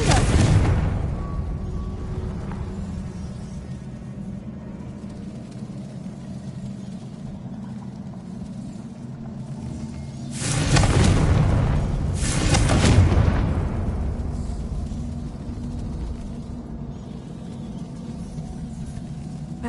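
Confringo blasting spell in Hogwarts Legacy, a loud blast at the start and then two close, heavy booming explosions in quick succession midway, over a low rumbling background.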